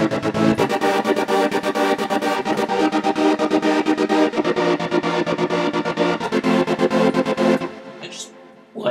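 REFX Nexus synthesizer with a trance-gate effect chopping a sustained chord into rapid rhythmic pulses, loud and continuous before cutting off abruptly near the end.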